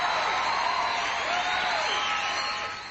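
A studio audience applauds and cheers a guest named Simon at the close of a talk show, a full, steady burst of clapping with a few whoops that tapers slightly toward the end.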